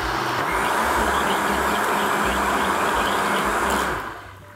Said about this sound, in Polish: tak jak mówię, używam blendera.